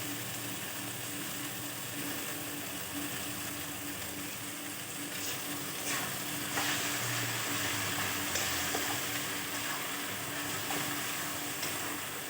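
Chicken pieces frying in oil in a pan make a steady, moderately loud sizzle with faint crackles and occasional stirring clinks, without any talking.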